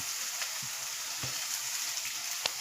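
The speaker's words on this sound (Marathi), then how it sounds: "सगळी भाजी मी कोबीची चिरून त्यात टाकत आहे" Chopped cabbage hits a hot pan with a lively, steady sizzle and a few soft thuds and stirring scrapes, close by and without talk.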